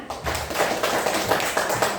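A classroom of students claps hands during an Indonesian history lesson, with a short stretch of close, somewhat uneven clapping over a low room hum.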